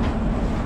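The 13115 Humsafar Express pulls out of Sealdah station with a brief, loud, steady low rumble and broad noise throughout.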